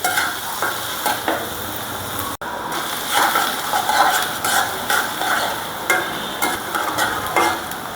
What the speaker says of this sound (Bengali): এখন এই মশলাটা হালকা একটু ভেজে এরপরে দেব অন্য মশলা।